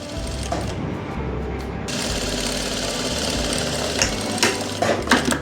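A sewing machine runs continuously, stitching fabric for a hook strip with a half-inch seam toward the neck, its fast mechanical whir and rattle close and steady, with a few sharper clicks near the end.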